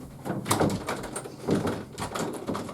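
A door slides and bangs repeatedly, with several rumbling thuds in a rough rhythm, fairly loud and close.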